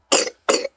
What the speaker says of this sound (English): Ooh, that's a big old cough.